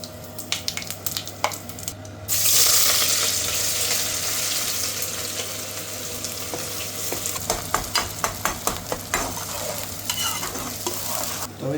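Onions sizzle in hot oil in a pan while being stirred, a steady loud frying hiss broken by scraping and clinking strokes of the spoon, with no talk.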